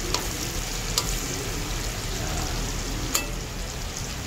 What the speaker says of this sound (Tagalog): Pa-brown yung ating karne